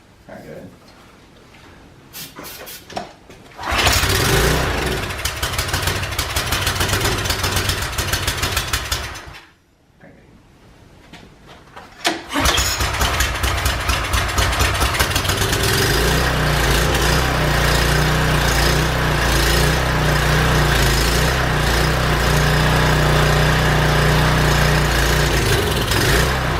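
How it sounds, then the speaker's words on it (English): A small engine fed a flammable liquid sputters through a few brief attempts, falls silent, then catches and runs loud and steady at a rough idle for the rest of the stretch, with no one talking. "if you use a flammable liquid and shove it in this engine here, it fires up"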